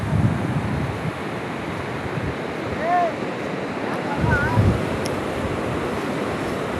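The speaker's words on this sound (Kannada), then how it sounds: "ನಾನು ಮುರುಡೇಶ್ವರದ ಬೀಚಲ್ಲಿದ್ದೀನಿ." Ocean waves and wind at Murudeshwar beach, a continuous roar of surf with gusty microphone buffeting, faint distant voices and a brief whistle-like call in the background.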